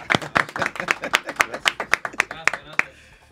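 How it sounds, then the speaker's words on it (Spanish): Applause from a studio audience welcoming a new típica music group: a run of sharp, evenly spaced claps, close and fairly loud, with a voice speaking over them. "Ay, aplauso, aplaudan ustedes mismos para ustedes."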